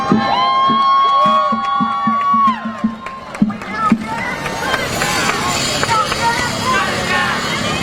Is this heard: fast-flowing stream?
no